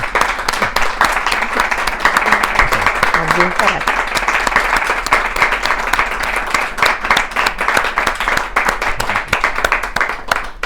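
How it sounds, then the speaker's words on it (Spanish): An audience at a book presentation breaks into sustained applause, a loud, dense wash of many hands clapping steadily throughout, with faint voices mixed underneath. "Pues yo creo que ahora corresponde el aplauso"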